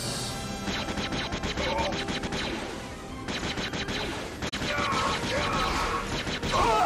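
Gunfire and combat noise in the video game Star Wars Jedi Outcast, a dense, loud, continuous stretch of shots and crashes running for several seconds.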